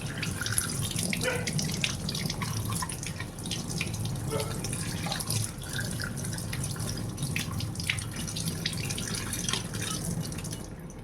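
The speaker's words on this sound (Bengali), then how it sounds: "এবার ইলিশ মাছের মাথাটা আবারও ভালোভাবে ধুয়ে পরিষ্কার করে নিচ্ছি।" Water from a tap runs while a hilsa fish head is washed in a sink, giving a continuous close splashing and trickling with scattered drips and handling noises, and no voices.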